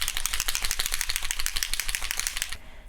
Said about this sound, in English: you're going to want to shake up your patina